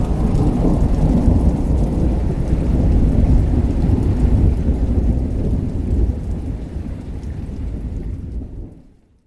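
Long rains in Kenya bring a heavy downpour with deep rolling thunder, a dense roaring wash of rain and rumble that swells and then fades out at the end.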